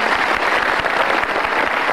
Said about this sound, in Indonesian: Kita kasih tepuk tangan untuk Lia.